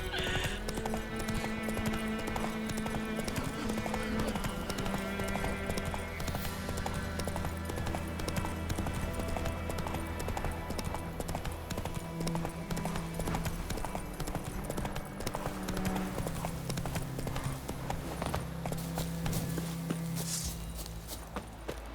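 Hooves clip-clop continuously as a horse is ridden in Witcher 3, the steady beat sitting under dense game music and ambience throughout.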